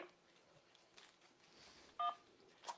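A telephone keypad button is pressed to accept an incoming call, giving one short, clear dual-tone beep over a quiet, hissy line, with a fainter blip shortly after.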